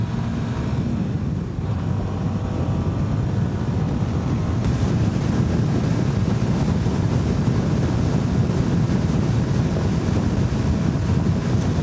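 Steady, heavy wind roar buffeting the rider of a CFMOTO 300SS motorcycle at about 82 mph on the highway, continuous and loud, with a low rumble underneath and no pauses.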